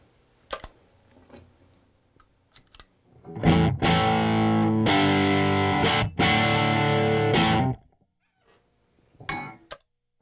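Electric guitar played through a Sun Model T amp at low master volume, a few loud distorted sustained chords struck in short bursts between quieter picking and handling noises.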